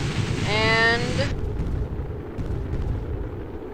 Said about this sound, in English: All of the wings exploded because, well, yeah, 90, right.